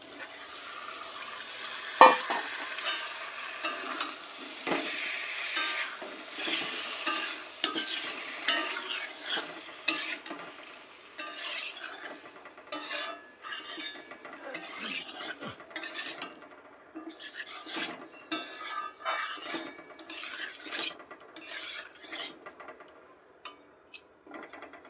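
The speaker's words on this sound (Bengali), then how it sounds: "ভালো করে আলু আর মশলার সাথে মাছটা আমি কষিয়ে নেব।" Lote fish being stirred and fried with potatoes and spices in a pan, a steady close sizzle broken by repeated scraping strokes of a spatula against the metal, with no voices.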